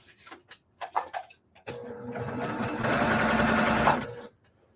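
A sewing machine starts after a few quiet clicks, running steadily at a fast even stitch, then speeding up before stopping, close by while quilting a snowball block at 2.5 stitch length.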